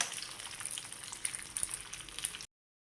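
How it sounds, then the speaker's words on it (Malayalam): Nuts roasting in hot ghee for rice payasam, giving a faint, steady crackling sizzle with fine, dense high-pitched pops, alone with no talk. "ചൂടായ നെയ്യിലേക്ക് നമുക്ക് ഈ നട്ട്സൊക്കെ ഇട്ട് കൊടുക്കാം"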